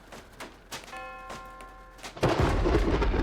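Thunder rumbling in the horror video game Unheim, a broad loud crack and roll that swells suddenly and keeps rumbling after quieter tones and soft thuds.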